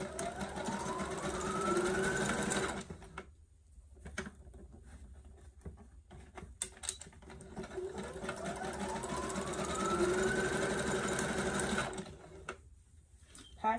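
A domestic sewing machine stitches a velvet and tulle mermaid prom gown, its steady near whir running in long stretches broken by short pauses for gathering the fabric, while a quiet voice talks over it.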